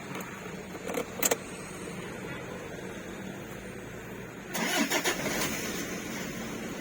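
A Toyota Fortuner engine cranks and catches, turning into a steady idle, with a light jingle of keys near the start.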